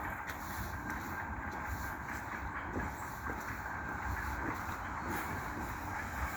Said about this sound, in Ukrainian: Це ж фунікульор, хто не знає. Один вагон поїхав донизу, а другий їде вверх.